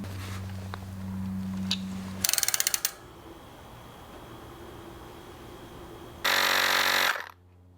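A 15 mm wrench tightens a part on a HAOQI Mustang electric mountain bike, giving two bursts of rapid ratcheting clicks, close and crisp, separated by a quieter stretch of room noise.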